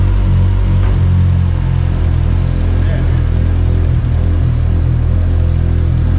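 A Mitsubishi Evo 8 with an Evospec double fuel pump install runs loudly nearby, a heavy steady low rumble throughout, with a voice talking over it.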